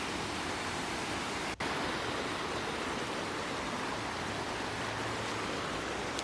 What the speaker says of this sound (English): And that right there is one of the waterfalls.